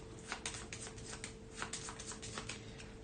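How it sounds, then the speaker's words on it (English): Kingdom Death Monster board game cards being shuffled close and quietly, a run of soft flicking riffles and taps at an uneven quick rhythm. "Shuffle these 6 cards"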